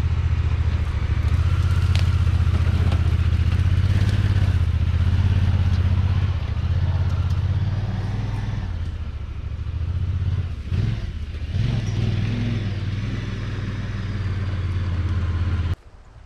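A Honda Pioneer 1000-5 utility vehicle engine labors and revs steadily at close range climbing a steep embankment, rumbling low with clattering as it climbs, then cuts off abruptly at the end.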